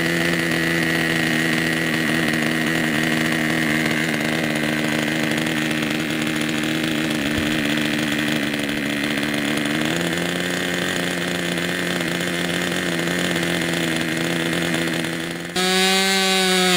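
A Great Planes P-51D Mustang model plane engine runs up at an airfield. It makes a loud, continuous, buzzing drone that holds steady, shifts pitch around the middle, and rises sharply in a rapid throttle sweep near the end.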